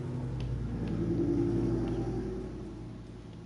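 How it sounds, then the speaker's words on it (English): Traffic on a busy road next to a home, heard as a steady low rumble from a passing car. It swells in the middle and then fades, with nobody talking. "if you do hear like a bunch of car noises, I'm just saying right now, I live like very close to a very popular road"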